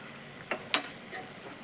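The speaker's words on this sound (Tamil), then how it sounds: "இன்னும் கொஞ்சம் நேரம் வதங்கி வரட்டும் இந்த சமயத்தில் கொஞ்சம் கரம் மசாலா சேர்த்துக்கலாம்" Masala being sautéed in a pan with a spoon, heard as a few quiet scraping stirs and clicks over a soft, steady sizzle, close by and without talking.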